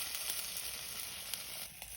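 Striper fish collars sizzle on a yakitori grill grate, a steady bright hiss with faint crackles that is close and continuous, with no voices.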